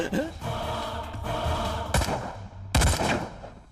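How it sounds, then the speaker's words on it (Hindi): Two heavy bursts of gunfire in an Indian action film scene crack out over a dense, noisy background of shouting and rumble. "अंदर फायरिंग हो रही है सर"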